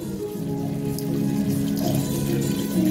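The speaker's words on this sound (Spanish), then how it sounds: "le echaremos caldo, dos o tres, lo que veáis vosotros" Broth poured into a pan of pork secreto with wine and sugar, a steady continuous splashing and trickling of liquid, close and moderately loud, with no talk.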